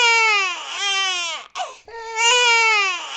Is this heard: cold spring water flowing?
no